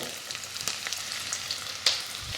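Garlic fries in oil in a heated pan with a soft, even sizzle and a few light clicks, ending in a sharper spatter near the close, with no voices.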